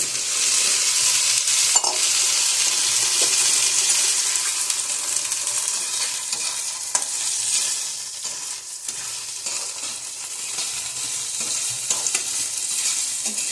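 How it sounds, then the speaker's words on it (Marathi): Boiled peas frying in hot oil with browned onion, a bright steady sizzle with occasional clinks and scrapes of stirring in the pan, close up and without voices. "वटाणे थोडेसे चांगले परतून घेऊया त्याच्यामध्ये, तेलामध्ये."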